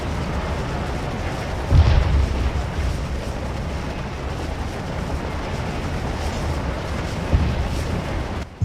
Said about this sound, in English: The artillery's killing him in that pocket